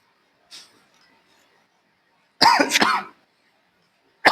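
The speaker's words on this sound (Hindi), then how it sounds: "बहुत खांसी जुकाम हो गया है।" Someone with a bad cold coughs in a quiet room: a faint short cough first, then a loud close burst of two or three harsh coughs, and the start of another at the very end.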